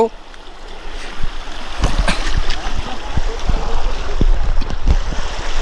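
Cold stream water rushing steadily around someone wading in to fish during traditional monsoon fishing, with occasional close splashes and knocks over a continuous broadband flow.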